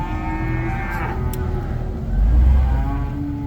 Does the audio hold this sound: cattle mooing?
yes